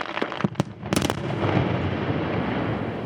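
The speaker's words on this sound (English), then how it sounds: "they set off explosions to open up the ground to get to the ore" Blasting in an open-pit graphite mine gives a few sharp cracks followed by a sustained rumbling roar of the explosion, heard from a distance with no voices.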